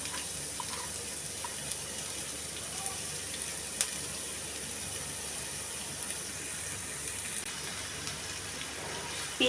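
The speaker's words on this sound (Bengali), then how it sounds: "পেঁয়াজটাকে আমি লাল লাল করে ভেজে নিব।" Chopped onions frying in mustard oil give a soft, continuous sizzle and crackle close by, with faint kitchen clatter and no talk.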